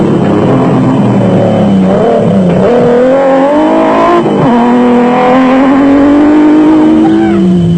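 Porsche-powered B Motors Chenoweth off-road race car arriving at an off-road race in South Africa, a loud, steady engine drone with rising and falling pitch as it approaches close by.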